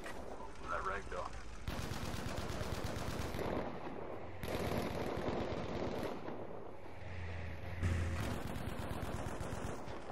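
Battlefield 5 battle with a sniper rifle shot among scattered gunfire, bursts and cracks at moderate distance layered over a steady din of combat, with a voice talking faintly underneath.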